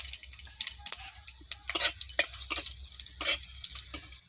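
White cumin seeds with dried and fresh green chillies crackle in hot white oil in a wok, giving faint, scattered pops and spits in irregular bursts against a quiet background.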